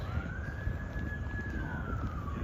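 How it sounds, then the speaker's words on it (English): A city emergency siren near Central Park in New York wails in one long rising and falling tone over steady traffic rumble, moderately distant and continuous. "we can hear the sirens of the city"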